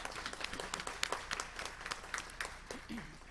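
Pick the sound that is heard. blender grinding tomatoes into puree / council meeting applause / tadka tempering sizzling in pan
council meeting applause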